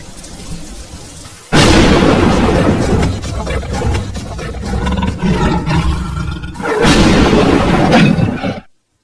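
Cartoon thunderstorm with heavy rain, loud thunder cracks bursting in twice, the rumble and downpour roaring in between, with no talking over it.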